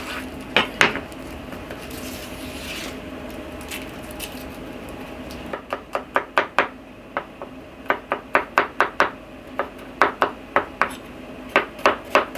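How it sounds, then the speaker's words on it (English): A knife slices through an onion on a cutting board, producing a quick run of sharp, close taps, first a few sparse cuts, then steady rhythmic chopping in short bursts. "I will slice the onion"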